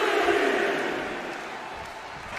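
Crowd cheering in the WWE 2K24 video game during an NXT Women's Championship match at NXT Battleground: a loud, steady roar of many voices that fades slightly over a couple of seconds.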